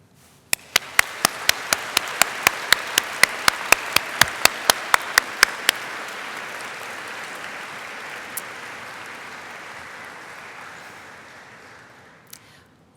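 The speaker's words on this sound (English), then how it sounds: "can I ask if all of you might want to just now clap the people who supported you?" A large graduation convocation audience breaking into sustained applause, a broad wash of clapping that builds, holds for several seconds and slowly fades, with a few sharp taps near the start.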